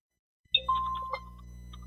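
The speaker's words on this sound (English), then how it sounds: "I know I'm hearing somebody must be ringing my bell" A doorbell chimes once, a clear ringing ding-dong tone that starts abruptly out of silence and decays over about a second, heard alone and fairly close during an online meeting.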